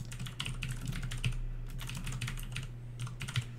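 Rapid clicking keystrokes on a computer keyboard, typed in quick irregular bursts over a steady low hum, close and fairly loud with no talking.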